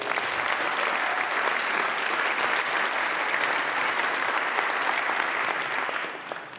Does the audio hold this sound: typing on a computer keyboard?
no